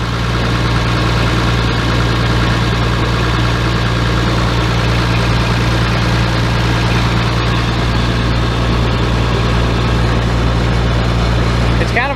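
A Perkins diesel engine idles steadily in a White 8700 tractor, a constant low throbbing drone with a fixed hum running through the whole stretch, close and fairly loud, without clear talk over it.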